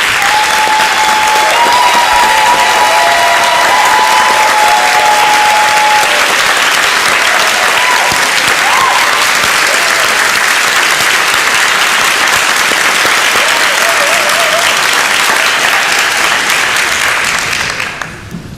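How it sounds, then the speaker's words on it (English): Sustained, loud applause from a large standing audience at a Royal Conservatoire of Scotland fellowship graduation ceremony, honouring graduates' friends and loved ones; dense clapping runs steadily for about seventeen seconds before fading out abruptly. "So can I ask all of you to be upstanding to applaud them"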